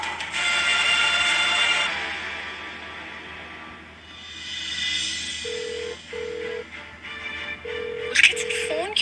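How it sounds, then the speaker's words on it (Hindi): A telephone rings repeatedly without being answered, its regular bursts of ringing repeating over a low background hum, with a faint voice near the end. "पुलकित सर फोन क्यों नहीं उठा रहे?"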